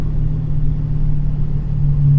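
A Whipple supercharged 426 Hemi engine idling with a stalling issue, a loud, deep, uneven rumble that holds steady close by and swells slightly toward the end.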